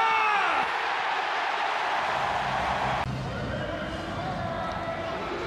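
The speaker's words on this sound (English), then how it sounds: "The crowd find their voice." Stadium crowd at an A-League football match swelling into a steady, broad roar, loud and sustained throughout with a commentator's voice over it.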